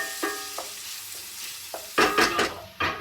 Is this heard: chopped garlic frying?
yes